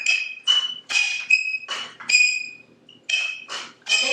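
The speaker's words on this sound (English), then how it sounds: "I think my pepper mill is singing to you." A pepper mill grinds pepper in a series of short squeaky, whistling bursts, about nine evenly paced turns close up, each a bright chirping squeal.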